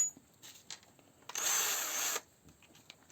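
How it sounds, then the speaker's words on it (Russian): A cordless screwdriver briefly whirs for under a second while tightening a self-locking nut, a single steady burst standing out against a quiet background. "Воспользуемся опять-таки шуруповертом."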